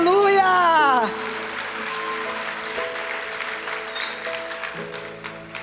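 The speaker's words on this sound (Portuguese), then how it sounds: "Você pode dar uma salva de palmas ao Senhor?" A church congregation at Lagoinha Canoas applauds the Lord in sustained clapping after a musical swell fades, with keyboard tones and faint voices mixed in beneath the crowd.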